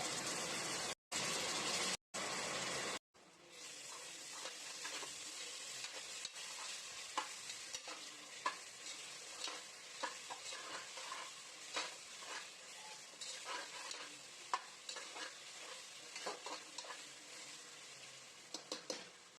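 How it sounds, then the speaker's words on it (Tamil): Ginger garlic paste sizzling among fried onions in a pan for vegetable pulao, a continuous hiss with frequent spatula scrapes and taps, close; opening seconds have brief bursts separated by silent gaps before the steady frying sets in. "நம்ம இஞ்சி பூண்டு பேஸ்ட் சேர்த்துக்கலாம்."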